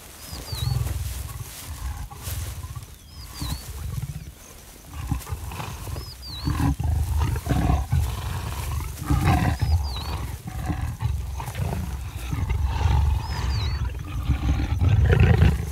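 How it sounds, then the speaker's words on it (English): Mating leopards roaring in the wild, a repeated series of deep, rasping roars and grunts that rise and fall over about sixteen seconds, loud and fairly close, with no voices. "Leopard mating is not a silent affair, in contrast to their stealthy hunting."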